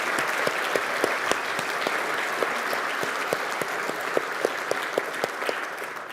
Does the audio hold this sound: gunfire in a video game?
no